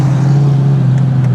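A 2008 Ford Crown Victoria Police Interceptor being driven, its engine giving a steady, loud low drone with a faint passing whine, heard close and without any talking.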